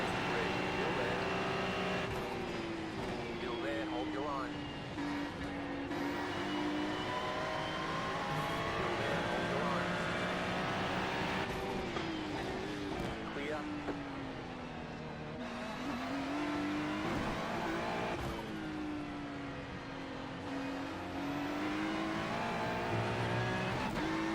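GT3 race cars testing at Sebring, with a loud, steady engine roar rising and falling as the cars accelerate and shift through the lap. Speech can be heard over the engine noise.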